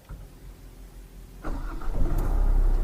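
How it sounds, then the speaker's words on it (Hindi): A Kia Sonet diesel engine cranks and catches with the clutch pressed, going from near silence to a loud, low, steady idle rumble, close by with no talking. "तो हम क्लच दबा के गाड़ी कर लेते स्टार्ट"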